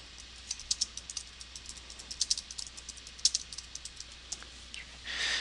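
Computer keyboard typing, quiet close keystrokes tapping in quick irregular bursts, ending with a short rustle or shuffle.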